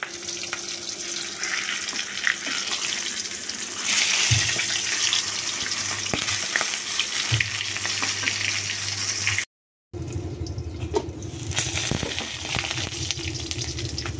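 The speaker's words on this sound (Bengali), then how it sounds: "মাছগুলো ভাজা হয়ে গেছে, এখন মাথাটা ভাজতেছি ভালো করে।" A fish head frying in oil makes a steady hiss and crackle, close and continuous, with a few clinks of utensils and a brief gap near the end.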